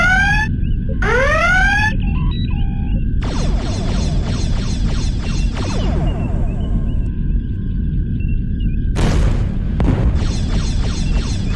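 A red alert alarm in the video game Star Trek Bridge Commander opens with loud rising electronic whoops. Several pulsing tones and booming bursts follow over a constant low ship hum.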